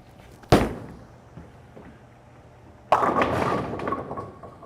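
An RST Hyperdrive bowling ball released onto the lane with a sharp thud, rolling quietly, then crashing loudly into the pins with a sustained clatter that slowly fades.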